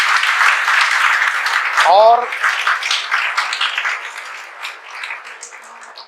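A classroom audience claps for a student topper, dense steady applause that runs through the whole stretch and slowly thins toward the end, with a brief voice heard near the middle.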